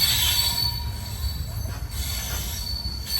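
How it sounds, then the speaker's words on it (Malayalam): The Rameswaram Tirupati Express rolls along the rails with a continuous heavy rumble and a high, sustained wheel squeal over it, loud and close throughout, with no voices. "രാമേശ്വരത്ത് നിന്ന് കറക്റ്റ് 3:30 തന്നെ നമ്മുടെ ട്രെയിൻ എടുത്തു."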